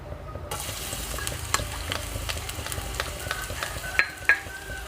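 Shallots frying in hot oil and pork fat for stir-fried instant noodles, heard as a steady close sizzle with light stirring clicks and two sharper scrapes near the end, with no talking.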